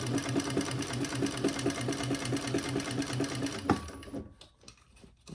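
A sewing machine runs in a fast, steady rhythmic chatter of stitching up close, then stops abruptly, leaving a few faint mechanical clicks and handling sounds.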